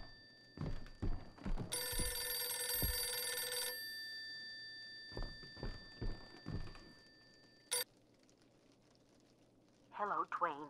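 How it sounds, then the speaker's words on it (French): An old-style telephone rings in the horror video game Visage, a long buzzy electronic ring burst standing out among dull footsteps and thunks in a quiet interior, with a short second ring later. "Téléphone."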